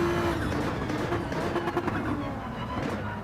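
Porsche race car in Gran Turismo 7 accelerating hard, its engine a steady, loud drone that holds close and continuous throughout with a slight rising whine.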